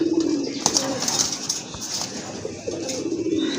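Domestic pigeons in a fancier's collection coo softly and repeatedly, close by, with a low rolling murmur over faint background noise.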